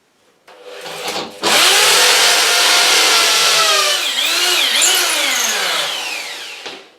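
A hammer drill with a 6 mm bit bores steadily in hammer mode after a brief start, running loud and close for about five seconds with slight pitch dips before spinning down.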